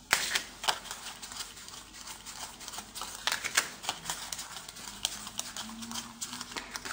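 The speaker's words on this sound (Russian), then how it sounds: "Перемешиваем и раздаем игрокам по 8 карт." Playing cards for a party game are shuffled and dealt by hand, a close run of crisp riffling flutters and soft slaps of cards landing on a table, irregular and fairly quiet.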